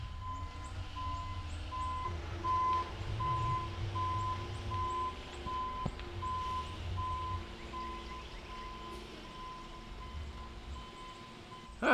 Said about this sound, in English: The concrete trucks are playing us out